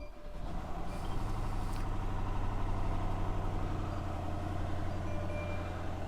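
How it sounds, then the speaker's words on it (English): A push-to-start car engine runs at a rough, steady idle just after starting, a loud, close, continuous rumble with no talking over it. "Engine sounding a bit rough."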